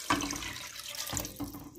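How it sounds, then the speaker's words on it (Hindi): Water is poured into a cooking pot for chicken karahi, a steady splashing rush with a few brief louder surges, close and fairly quiet, with no talk. "अब मैंने इसमें पानी डाल दिया है"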